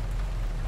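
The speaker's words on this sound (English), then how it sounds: "It is raining." Rain in the video game Road 96 falls as a brief, steady wash of patter over a deep, constant low rumble.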